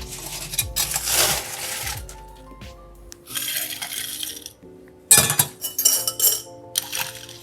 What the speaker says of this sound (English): And then we are going to add ice and stir.